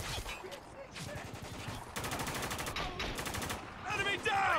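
Heavy gunfire in the video game Spec Ops: The Line, with dense bursts and rapid machine-gun rattles over a continuous loud battle din, and shouted voices mixed in throughout.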